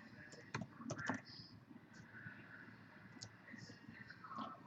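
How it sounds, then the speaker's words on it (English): A computer keyboard is tapped in quiet, irregular clusters of keystrokes, close but faint, with small pauses between bursts and soft room noise underneath. "Going to type in live."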